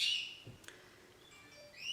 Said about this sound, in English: They are outside. I put them outside to shut them up, but that didn't work because now they're talking to all the wild birds.